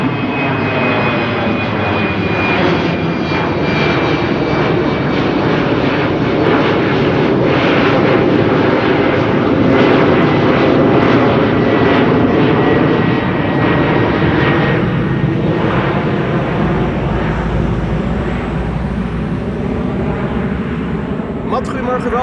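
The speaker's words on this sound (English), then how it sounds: "the first Dreamliner is already approaching" A Boeing 787 Dreamliner approaches Amsterdam Schiphol Airport, its engines a broad, steady roar that holds loud and continuous throughout, with a voice speaking over it.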